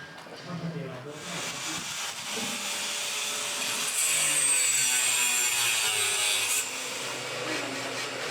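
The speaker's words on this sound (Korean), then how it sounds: "일일이 손으로 톱질을 해서 큐콘을 잘라주고 있습니다" A steady, gritty rasp of a handsaw cutting through an aerated concrete (Q-CON) block during house construction in Thailand, continuous and close, growing slightly louder midway.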